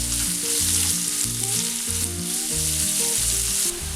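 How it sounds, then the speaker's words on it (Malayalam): Onions fry in hot oil with ginger and garlic for a soya chunks roast, a continuous bright sizzle and crackle running throughout, close and loud, with no talking. "സവാള അതുകൂടി ഇട്ടതിന് ശേഷം ഇത് നന്നായിട്ടൊന്ന് റോസ്റ്റ് ചെയ്തെടുക്കാം."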